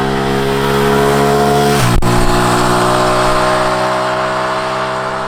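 A 2019 Suzuki Gixxer SF 150 motorcycle runs with a steady, close engine drone, briefly dipping as if shifting gear before settling back to an even hum.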